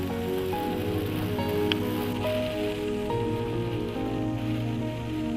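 Rain falling in the Norwegian mountains, a steady dense hiss of drops on surfaces lasting the whole time, with music playing over it.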